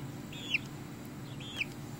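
A pet chicken gives two short, high clucking calls about a second apart, faint over a low background hum.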